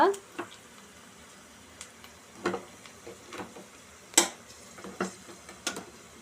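A tempering of lentils, dried chillies, curry leaves, onions and asafoetida fries quietly in a pan, with sparse scattered spatters and stirring clicks over a faint sizzle.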